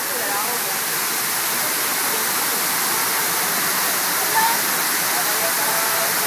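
Man-made waterfall at Williams Tower in Houston pours in a steady, loud, close rush of water that stays constant throughout with no break.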